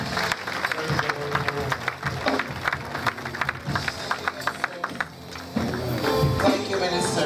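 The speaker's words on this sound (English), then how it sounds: "give the Lord a wonderful round of applause" A church congregation at a dedication celebration claps for the Lord, giving a dense, lively round of applause with scattered sharp claps and some voices mixed in.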